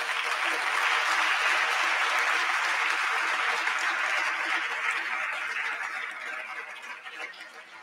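Sustained, dense audience applause at a humanities conference, steady and loud at first and then slowly thinning out toward the end.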